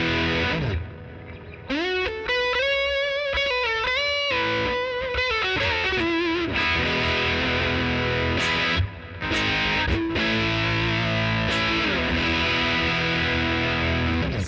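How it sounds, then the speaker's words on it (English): An electric guitar played through a JHS Kilt overdrive/fuzz pedal gives thick, saturated distorted chords and sustained bending notes, loud and continuous with no talking. "this is, in my opinion, a little more than just distortion, compared to a rat style setup"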